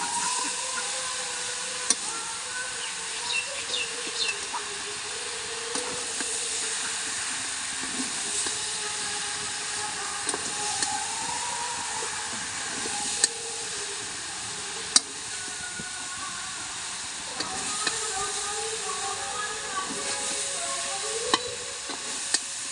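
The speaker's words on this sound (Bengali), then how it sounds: "ভালো করে কষে নেব" Food is sautéed in a pan before water is added, giving a steady hissing sizzle. Occasional sharp clicks and scrapes of stirring cut through at intervals, close and moderately loud throughout.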